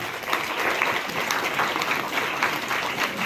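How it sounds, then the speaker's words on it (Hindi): Audience applause at a school maths fair for National Maths Day, steady dense clapping from a crowd filling the room for several seconds with no talk over it. "सर के लिए तालियां जाए"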